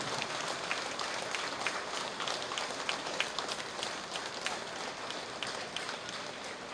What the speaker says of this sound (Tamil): நாம் எல்லாரும் கையை உயர்த்தி நம்முடைய பெற்றோர்களுக்கு ஒரு கைத்தட்டல் கொடுத்து